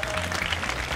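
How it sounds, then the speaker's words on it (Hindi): Seated spectators give a brief, dense burst of clapping at the opening of a school sports competition featuring kabaddi at Saraswati Bal Niketan school in Dadiba. "बैठे हुए दर्शकगण तालियों की गड़गड़ाहट से स्टार्ट करें"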